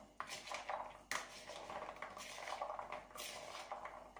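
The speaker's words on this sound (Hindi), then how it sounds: "2 चम्मच ले लें, उसकी मदद से इसको अच्छे से हम ऐसे ऐसे मिक्स कर लेते हैं" Two spoons toss and mix chana chaat in a bowl, making repeated clinks and scrapes in an uneven rhythm, close and fairly quiet, with no talking.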